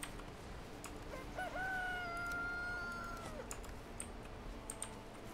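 Chickens in the Valheim video game give one drawn-out, rising-then-level call lasting about two seconds, clear above a steady low background hum, with a few faint clicks and taps around it.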